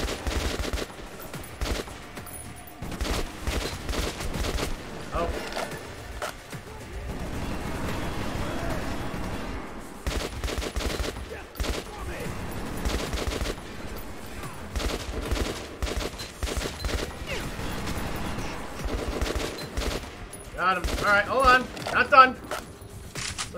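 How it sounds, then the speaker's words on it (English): Gunfire from the Metro 2033 Redux video game on Xbox One, with repeated bursts of machine gun fire and scattered shots rattling through the clip beneath a player's quiet commentary. "Oh, he has a machine gun."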